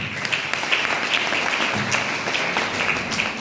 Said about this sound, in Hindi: तो एक बार अपने लिए आप लोग ताली बजा लीजिए।